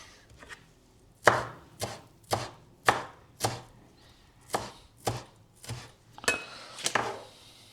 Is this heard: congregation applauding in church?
no